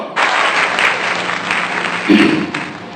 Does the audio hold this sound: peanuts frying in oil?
no